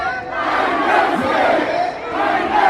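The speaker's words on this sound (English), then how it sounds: "I want to hear the whole motherfucking crowd say I ain't never scared" A large street protest crowd chants a call-back line together in loud unison, a roaring mass of voices rising and falling over a few seconds.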